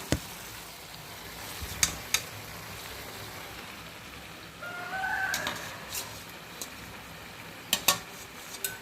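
Crab pieces go into a pan of frying tomato and onion gravy for a pepper crab fry, with a low, faint sizzle, a few sharp utensil clinks and a rooster crowing in the background.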